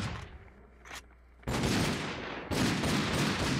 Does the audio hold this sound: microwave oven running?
no